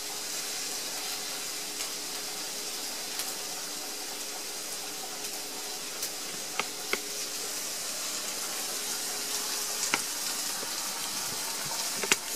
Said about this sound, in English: So my water's boiling for my couscous.